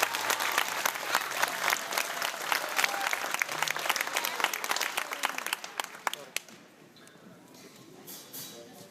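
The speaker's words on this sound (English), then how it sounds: "So please give our staff, our band directors, a lot of applause for all the time that they put into that." Dense audience applause at a school district honor band concert, loud and sustained for about six seconds, then fading to a quieter room with scattered claps and murmur.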